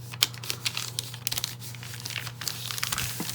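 Scissors cutting the holes off handmade washi tape, a close run of small crisp snips and papery crinkles with irregular clicks over a low steady hum.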